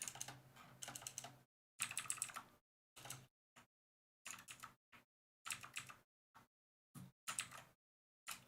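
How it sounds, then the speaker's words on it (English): Bursts of fast typing on a computer keyboard come in short clicking runs separated by pauses of silence, close and fairly quiet. "I'm typing back to you."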